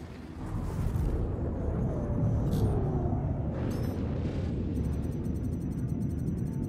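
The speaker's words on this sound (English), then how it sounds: "Just a wall of fire." Continuous heavy roar of weapons fire from a turret in the Star Citizen space game, a dense rumbling barrage holding steady throughout with faint higher crackles on top.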